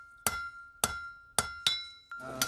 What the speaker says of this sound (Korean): 그가 이렇게 전통 방식으로 손망치질을 하는 데에는 다 그럴 만한 이유가 있다는데요.